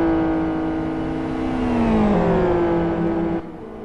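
A race car in a racing video game enters the pits, its engine note holding steady then dropping in pitch as it slows, a loud continuous whine that eases off near the end.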